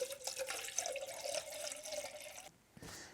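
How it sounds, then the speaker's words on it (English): Water poured into a Jetboil Flash stove cup outdoors, a soft continuous trickling stream that rises in pitch as the cup fills, then stops abruptly near the end; quiet and close. "now we'll add our 2 cups of water, fill it up to the line"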